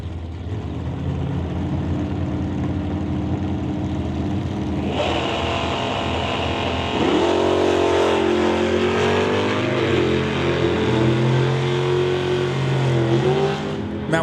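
Drag racing cars at an NHRA Summit ET bracket race, an S10 among them, engines idling loudly then revving and roaring higher, steady and fairly near.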